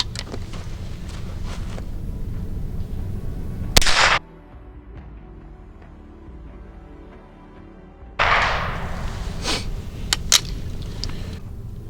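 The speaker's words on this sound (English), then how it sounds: "Do we want to shoot more 22 Cooey?" A .22 Cooey rifle fires outdoors, giving a couple of sharp, isolated cracks separated by a quiet stretch, over a low ambient rumble.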